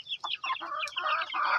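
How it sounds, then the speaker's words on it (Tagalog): Backyard chickens kept at a home in Leyte cluck close by, a quick string of short, throaty calls running together over about two seconds. "Daming manok."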